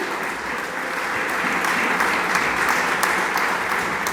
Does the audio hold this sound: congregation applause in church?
yes